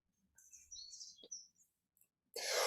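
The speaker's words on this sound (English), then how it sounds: "You can hear the birds chirping in the background because it's a beautiful day" Birds chirping outdoors on a fine morning, a few faint high tweets and trills in the distance, quiet, then a brief breathy rush at the end.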